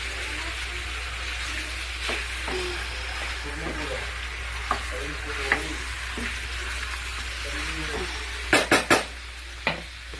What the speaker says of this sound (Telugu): చికెన్ని బాగా కలుపుకోవాలి.